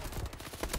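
Weapon fire in a first-person shooter video game, rapid bursts of gunshots at a moderate, steady level with no voices over them.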